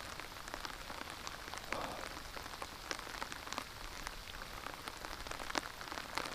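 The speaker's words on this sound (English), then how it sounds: "The rain's coming down good." Rain comes down steadily on surfaces outdoors, a soft constant patter dotted with sharper individual drop ticks, fairly quiet and with no one speaking.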